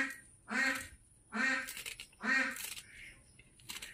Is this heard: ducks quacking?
yes